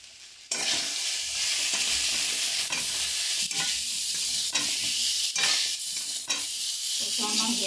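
Masala with sugar and salt sizzles and fries steadily in a pan while a spoon stirs it in regular scraping strokes, close and loud throughout, with no voices.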